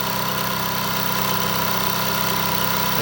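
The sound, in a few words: milling machine fly cutter taking a final pass on metal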